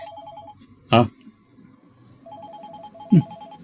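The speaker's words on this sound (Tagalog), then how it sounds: "Cellphone mo, bakit nagre-ring?" A cellphone rings with a repeating electronic ringtone pattern, a short run of beeps, a pause, then another run, broken by two loud bursts of voice or handling noise.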